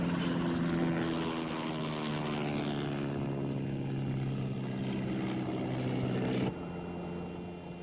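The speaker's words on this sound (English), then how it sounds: "you go through this every time Steve gives her a flying lesson." Small propeller airplane flying during a flying lesson, a steady droning engine hum that holds at a constant loud level for several seconds, then drops abruptly to a slightly quieter drone near the end.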